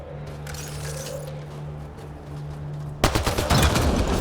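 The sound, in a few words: gunfire shooting a Ket device in the video game Mass Effect Andromeda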